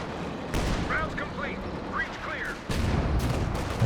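Rocket artillery firing in the Company of Heroes 2 strategy game, heard as a deep booming launch followed by chirping, whistling projectile sounds and a second heavy blast, with a low battle rumble underneath.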